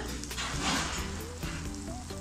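Half-boiled eggs being stirred in a pan of egg biryani masala, giving a steady close sizzle and frying hiss with soft scraping from the stirring throughout, no voices.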